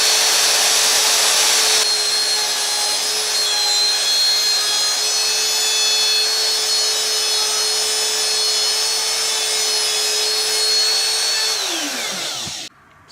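A router cuts a hinge recess into a wooden door with a steady, loud, high-pitched whine that holds for about twelve seconds and then winds down as the motor stops.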